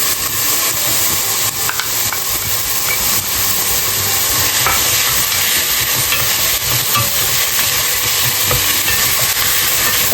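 Meat and vegetables, including celery, sauté for Moroccan harira soup in a steady, loud sizzle, with continuous stirring scrapes throughout and no voices.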